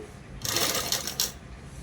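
Sewing machine running in a short burst while top-stitching only the lining of a peplum top, a close, steady whirring run of about a second with no talk.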